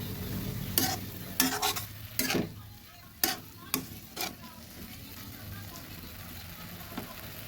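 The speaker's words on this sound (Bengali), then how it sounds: "এবার সুন্দর করে নেড়ে দিচ্ছি" A spoon stirs fenugreek greens with flat beans, potato and turmeric in a pan, giving several sharp scraping knocks against the metal over a soft low sizzle. The strokes are spaced and irregular and then give way to quiet frying.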